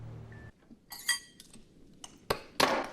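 Ice cubes in a glass being chipped with an ice pick, giving a series of sharp glassy clinks and chips spaced irregularly, the loudest strikes near the end, with no voices.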